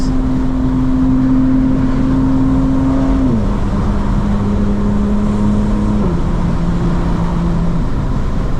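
A 900hp 2025 BMW M4 Competition xDrive with some damage is driven hard, its loud engine droning steadily from inside the cabin, the pitch stepping down twice as it shifts.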